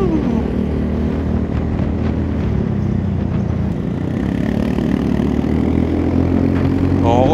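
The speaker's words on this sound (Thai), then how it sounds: "วันนี้ท่อดังๆกันทั้งนั้นเลย" Loud motorcycle exhausts, including a Forza 350 scooter, on a group ride, a continuous close engine drone with steady low rumble and slight surges, overlaid with wind, and a brief voice near the end.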